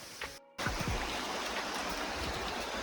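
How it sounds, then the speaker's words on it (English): Honey Creek Falls in Big South Fork, a creek waterfall, pours with a steady broadband rush close by. A brief cut interrupts it near the start, then the outdoor water noise continues without talking. "I think that may be what they call Honey Creek Falls."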